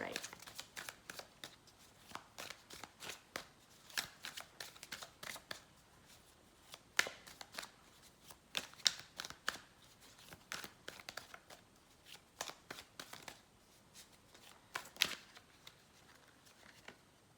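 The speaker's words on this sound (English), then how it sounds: "So let's clarify that." Tarot cards are shuffled and handled at close range in a continuous run of crisp riffles and flicks, with a reader speaking quietly between them.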